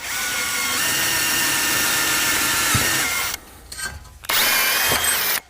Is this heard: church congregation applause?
no